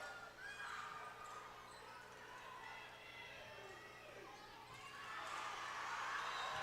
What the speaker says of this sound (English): You've got all of Ashland's fans are up now cheering and making noise